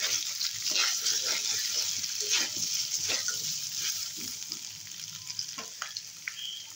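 Potatoes and taro fry in oil with ginger paste, a steady close sizzle and crackle with occasional stirring scrapes, no talking.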